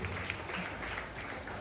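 Audience applause for Ramana sir and Jashwant as they are welcomed onto a stage at an award ceremony, a dense, steady wash of clapping filling the whole stretch at moderate loudness.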